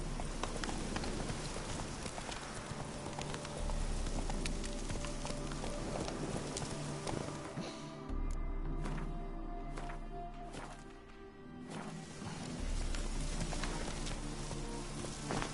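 Ridden horse galloping in The Witcher 3, its hooves drumming in a quick, continuous rhythm under layered game ambience and music, fading somewhat midway before picking up again.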